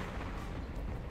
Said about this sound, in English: Just threw a grenade.